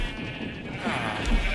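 Sheep bleating in modded Minecraft near a wool factory where deployers holding shears shear the sheep, a couple of short synthetic bleats over a steady game background hum.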